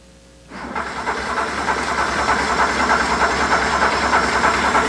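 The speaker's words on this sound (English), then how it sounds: "Crank the motor over with the starter until the needle rises no further." A 1984 Porsche 911 engine is cranked on its starter during a compression test, starting abruptly after a brief quiet moment into a steady, loud, hissing mechanical drone that runs unbroken to the end.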